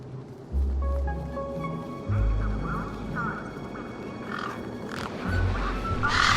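Big Steve, a large bird in the video game Beyond a Steel Sky, gives several harsh caws over low game ambience and music, fairly close and loud.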